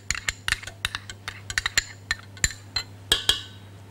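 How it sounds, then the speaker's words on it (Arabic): Butter and sugar being beaten for a cherry cake batter, heard as rapid, irregular clinks and taps of a utensil against a bowl, fairly close and continuous over a low steady hum, with no talking. "ولما نضرب الزبده والسكر"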